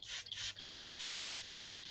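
Balsamic vinegar misted from a spray bottle onto a chocolate dish, a few sharp hissing bursts that run into a longer steady spray, close and alone.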